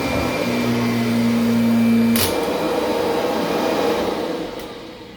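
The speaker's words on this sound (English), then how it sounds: "when she goes over the carpet transition, that little metal strip there, and you hear, that literally is airflow, very high airflow" Hoover Smartwash carpet cleaner rolling over a metal carpet transition strip indoors, giving a loud steady rushing roar of high airflow with a short tonal hum and a brief sharp burst partway through.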